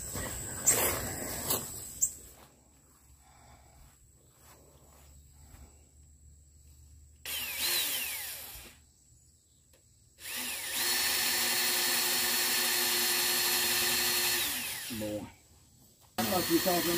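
A power drill drives into wood on a stoop building project outdoors, with several separate bursts of whining motor, the longest running about five seconds, and short pauses of quiet in between.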